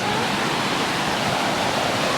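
Steady, full rushing wash of sea waves breaking on a sunny beach, a constant loud roar of surf with no distinct individual crashes.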